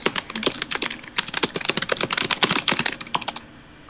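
Rapid clicking of computer keyboard keys, dense and irregular, fairly close and steady for a few seconds before thinning out, heard alone without speech.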